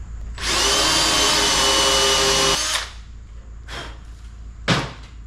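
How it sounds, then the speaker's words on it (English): A power drill bores out blind holes in an early Ford steering wheel, a loud steady whine for about two seconds, then spinning down, followed by two short clanks from the workshop. "there is some holes, some blind holes here that you can just drill out"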